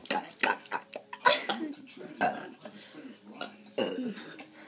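Several burps from people in a burping challenge, rough irregular belches in quick succession at close range, with voices mixed in among them.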